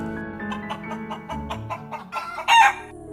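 Close-up rooster calls and clucks, a run of short rhythmic notes ending in a louder, brighter squawk.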